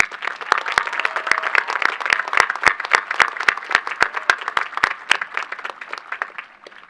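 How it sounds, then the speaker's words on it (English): A graduating class and crowd at a high school commencement clap, the sound growing from scattered hands into a moderate round with sharp individual claps standing out nearby, then tapering off. "Please join me in a round of applause."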